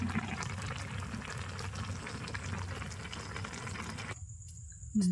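Curry bubbling at a rolling boil in a pot on a rural Bangladeshi kitchen fire, a steady close hiss and seethe that runs on evenly before cutting off near the end.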